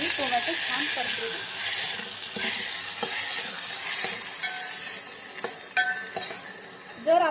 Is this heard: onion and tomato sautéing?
yes